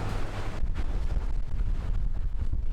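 Gusty squall wind blowing at sea aboard a sailboat with sails down and engines running, a steady loud roar buffeting the microphone with rumbling low turbulence throughout.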